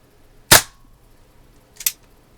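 A Daisy Red Ryder BB pistol fires two sharp, close pops about a second and a half apart, each standing alone against near silence.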